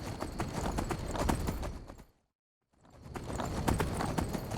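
Horse hooves clip-clop in the video game Skyrim, a brisk steady stream of hoofbeats that halts briefly into near silence and then resumes.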